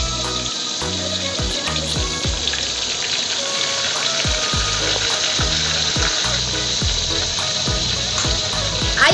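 Tempeh and tofu drop into hot oil with a splash of seasoned water, raising a loud, steady sizzle and crackle with rhythmic low thumps and clatter over it.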